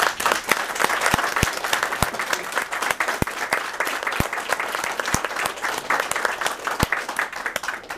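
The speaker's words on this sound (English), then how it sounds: "So let's give them one more round of applause." A convention audience gives panel guests another round of applause, with dense, sustained clapping and a few sharp, loud claps from hands nearby standing out through the crowd.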